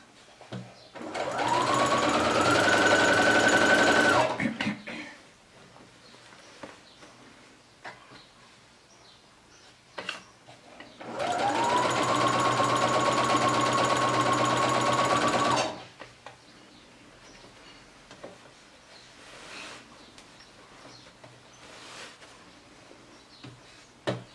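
An electric sewing machine stitches a fabric garland in two sustained runs, each winding up to a steady hum, separated by quieter handling clicks and faint background noise.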